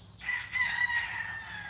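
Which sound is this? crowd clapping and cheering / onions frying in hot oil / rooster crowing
rooster crowing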